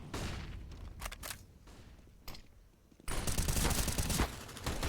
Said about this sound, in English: especially if you count the MAC-10, which I do. It's like a machine pistol.